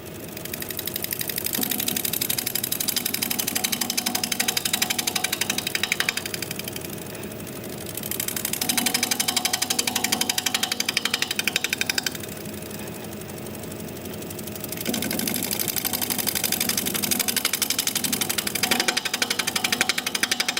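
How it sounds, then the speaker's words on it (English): A wood root spinning on a lathe while a scraping tool works its surface: a steady, loud motor drone with gritty scraping texture that eases off briefly twice, with no talk. "maybe we'll do a little scraping on here and call it good"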